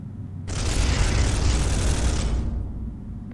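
A sustained, loud roar of weapon fire from the Space Hulk video game, starting abruptly, holding as a dense blast for about two seconds, then cutting off into quiet.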